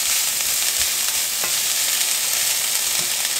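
Shishito peppers sauté in a pan, a steady, fairly loud broadband sizzle with a few faint stirring scrapes and nobody talking.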